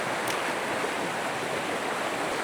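Fast-flowing trout stream rushing steadily and loudly close by, a continuous broadband wash of churning water with no talk.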